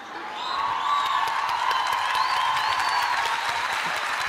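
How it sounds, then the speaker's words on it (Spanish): Sustained audience applause fills the space, a dense steady wash of many hands clapping that swells in and holds at even loudness, with faint whistles or cheers rising above it. "El aplauso."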